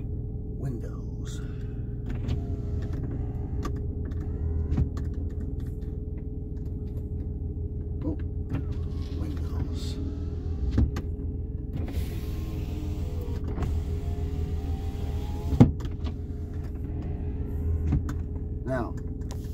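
Electric power windows of a 2000 Mazda MPV motoring up and down inside the cabin, a steady whirring hum with brief clicks from the switch, over a low idling rumble.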